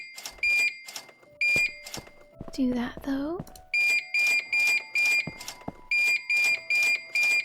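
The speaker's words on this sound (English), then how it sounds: "Sorry for the beeping" Repeated electronic alarm beeps in Plant Nursery Sim, coming in evenly spaced bursts before and after a stretch where a person talks over a sustained tone.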